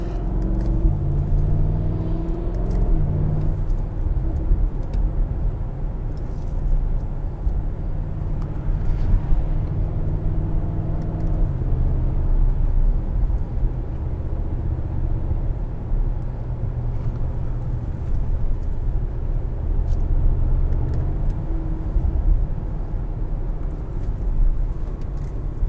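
A 2021 Audi SQ7 SUV on back roads gives a steady, loud low rumble of engine and road noise as it carries speed through corners, with no voices.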